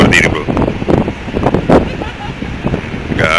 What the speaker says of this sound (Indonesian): lagi musim angin selatan kencang sekali, lagi ditiup